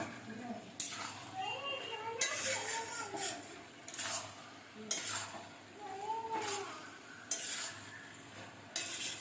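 Jackfruit, pointed gourd and spices are stirred in a hot pan, giving repeated bursts of scraping and sizzling every couple of seconds, while a voice talks over the cooking.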